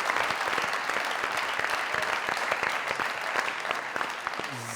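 A studio audience at the Pakistani comedy talk show Mazaq Raat gives loud, sustained applause, a dense and even wash of clapping that holds steady for several seconds.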